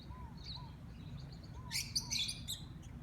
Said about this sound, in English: Green parrots.